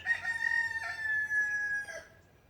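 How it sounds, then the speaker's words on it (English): A rooster crows once nearby, a sustained strained call that trails off into quiet. "Every time I make a video, the chicken goes off, right?"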